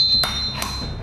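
A hammer strikes hot iron during traditional Chinese sword forging, giving two sharp metallic clangs with a bright ringing tail and a steady high tone lingering between them.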